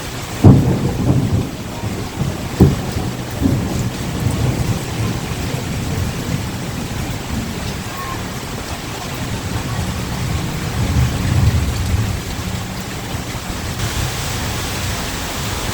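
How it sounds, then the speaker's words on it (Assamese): A thunderstorm with heavy rain makes a steady, dense roar of rainfall, and a few deep thunder rumbles come through near the start. No voices are heard. "কিন্তু এই ধুনীয়া পৰিৱেশটো অহাৰ আগত আহে এজাক ধুমুহা আৰু ঢল বৰষুণ।"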